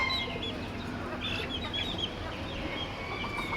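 Chickens and roosters cluck at an animal auction in Kuwait, a scatter of short calls over a soft, continuous background murmur, fairly faint and distant.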